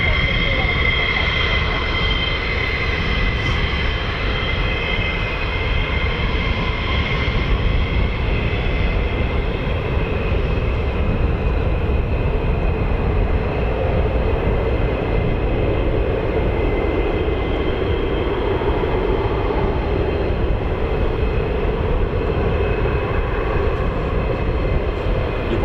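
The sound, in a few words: F-15 fighter jet engine starting up at RAF Lakenheath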